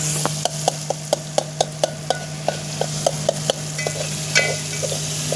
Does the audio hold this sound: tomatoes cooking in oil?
yes